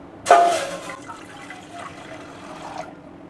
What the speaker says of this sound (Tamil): ஒரு பாத்திரத்தில் 4 டம்ளர் தண்ணி சேர்த்துக்கலாம்.